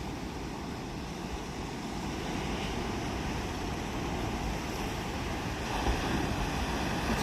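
Ocean surf at misty Moonstone Beach, a continuous broad roar of breaking waves mixed with wind rumble, steady and fairly distant, with no voices.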